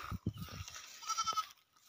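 A two-month-old male goat kid bleats in short, close, wavering cries, several in quick succession, then quiets.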